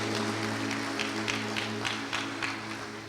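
A church congregation applauding together, a steady wash of clapping from many hands that holds at moderate level for a few seconds, with no talking over it.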